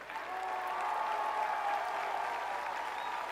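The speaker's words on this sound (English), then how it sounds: "Sounds like we've got a hell of a crowd there for a non-election year" Sustained applause and cheering from a large crowd at a Bernie Sanders political rally, a steady dense wash of clapping heard at a moderate distance with no talking over it.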